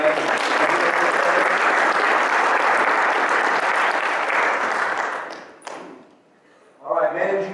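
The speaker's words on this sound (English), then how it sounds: "But give John a round of applause for coming up." A seminar audience breaks into sustained applause that stays steady for about five seconds before fading out, then a speaker's voice resumes.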